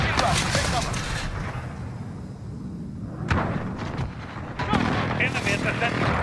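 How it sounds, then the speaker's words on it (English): Precision airstrike explosions in Call of Duty Modern Warfare boom as heavy, rumbling blasts, with two sharper impacts partway through amid continuous battle noise and game voice callouts. "Enemy precision airstrike inbound."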